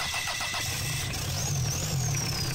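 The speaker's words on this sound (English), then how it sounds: "Engine fired up, 440 is running." A Mitsubishi 4M40 diesel engine, run outside the vehicle with a straight pipe, cranks and catches, settling into a steady, rumbling idle with a faint turbo whine above it.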